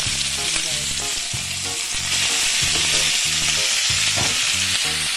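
Ground meat frying with eggplant in a hot pan, a loud steady sizzle with stirring scrapes on top, close and with no voices.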